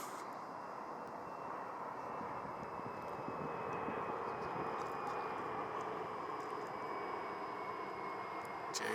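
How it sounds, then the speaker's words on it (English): A JSX Embraer 135 regional jet passes at sunset in Phoenix, a steady broad engine roar with a faint whine, moderately distant and continuous throughout. "Jet Suite X Embraer 135."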